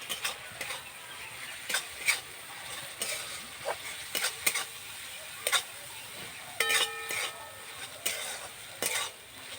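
Slit green chillies crackle in hot oil, a light sizzle running under a series of sharp, irregular clicks and scrapes from a spatula against the pan.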